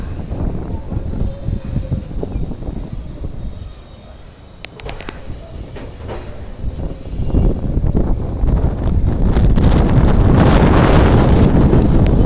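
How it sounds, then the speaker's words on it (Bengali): Strong wind roars and buffets the microphone in gusts, dipping briefly before growing louder and harsher toward the end. "অনেক বাতাস"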